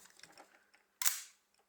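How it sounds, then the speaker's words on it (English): The shutter and mirror of a Pentax K2 film camera firing as part of a repair: faint mechanical fiddling, then one sharp, bright click-snap that rings out briefly, close up in a quiet room. "it falls straight down, activating the shutter"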